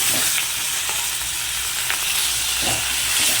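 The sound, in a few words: fish head frying in oil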